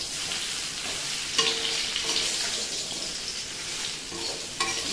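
Mango pieces with jaggery and sugar are stirred in a pan, giving a soft steady sizzle with several scraping stir strokes rising above it, nearby and moderately loud, with no talking.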